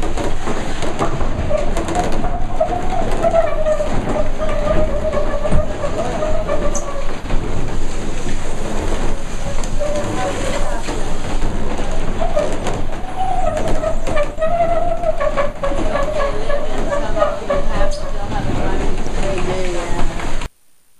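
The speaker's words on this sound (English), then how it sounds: "As the windmill turns, it turns these, and the heavy stones break up the chalk." Wooden gears of a working windmill in the Zaanse Schans, Holland, turning heavy stones that grind chalk, a continuous loud rumbling creak and clatter with a recurring rhythmic groan, with a person talking over it.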